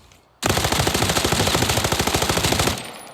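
A new gun in Arena Breakout fires one sustained automatic burst of about two seconds: a loud, close, rapid rattle of evenly spaced shots that starts abruptly and cuts off, with no talking over it.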